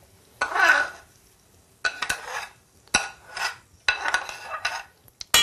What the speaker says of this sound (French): On va donc les débarrasser dans notre récipient en essayant de garder le maximum d'huile d'olive dans notre poêle.